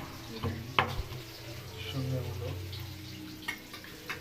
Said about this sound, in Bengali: পেঁয়াজটাকে আমরা এখন বেড়ে নিচ্ছি